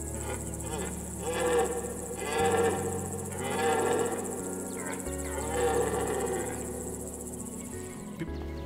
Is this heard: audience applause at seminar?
no